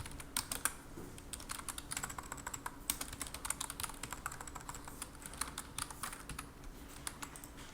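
Fast, continuous typing on a computer keyboard, with irregular rapid key clicks and occasional heavier strokes, close and clear with no talking.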